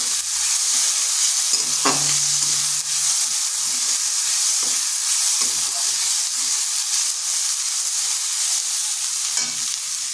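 Ginger and garlic frying in a pan give a steady close sizzle throughout, with a few stirring scrapes and clinks over the top and no talking.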